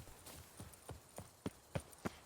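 Horse hooves in The Witcher 3: Blood and Wine video game clip-clop in a steady, quickening rhythm, with the final few strikes louder and sharper, close by and without voices.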